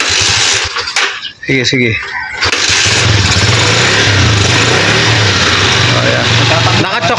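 Lifan 150 motorcycle engine cranking and catching with the choke on, then settling into a loud, steady idle close by, with someone speaking briefly during the start.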